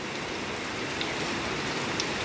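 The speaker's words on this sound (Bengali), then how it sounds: "কীভাবে বৃষ্টি হচ্ছে দেখো, চারিদিকে জল থই থই" Heavy monsoon rain pouring down steadily, a dense continuous hiss of drops hitting surfaces all around, loud and close with no gaps and no voices.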